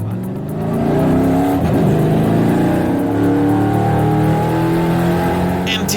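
A EuroNASCAR race car drives a lap at Vallelunga, its engine droning loud and close from inside the car, rising in pitch under acceleration and holding a steady roar.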